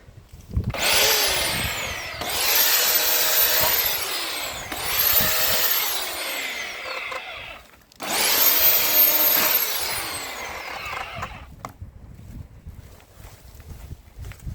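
A chainsaw making an odd noise revs in several bursts while cutting up a cordyline australis tree, rising and falling, loud and nearby, with brief dips between pulls and no talking.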